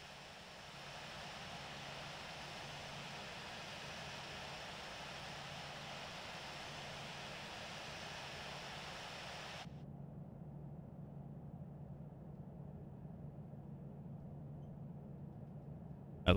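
Simulated Boeing 787 taxiing in the Infinite Flight game, a steady broadband engine hiss and low hum that holds constant, then the high part cuts out abruptly partway, leaving a duller rumble, with no talking.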